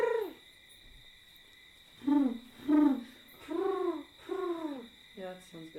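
A person imitates an owl with a series of five or six breathy hooting coos, evenly spaced and close, over a faint steady background tone.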